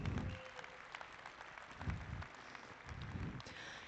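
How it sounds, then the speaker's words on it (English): Scattered applause from a stock show audience after the champion junior market steer drive, fairly quiet and thin, with low rumbling bursts and a faint voice or two underneath. "Go ahead, give them a round of applause."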